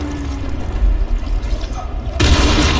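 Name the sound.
explosion in Dying Light video game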